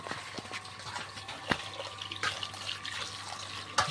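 Freshwater snails are washed in water, with continuous splashing and trickling close by and a couple of sharper knocks of the shells.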